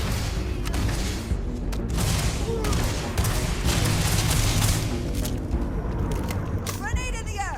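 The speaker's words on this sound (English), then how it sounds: "Who's throwing grenades?" Repeated grenade blasts and gunfire in Starfield, a dense stream of booms and shots that runs throughout, loud and near, with voices calling out over the combat.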